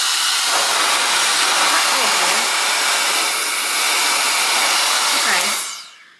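A Bondi Sands Airstyler hair styler runs on its high setting, a loud steady airy hiss and whir held for several seconds before it powers down and fades out.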